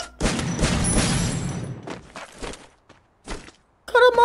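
Gunfire in a mobile shooter game, likely Free Fire: a dense burst of rapid shots at the start, then a few scattered single cracks with gaps between, and an electronic game effect at the end.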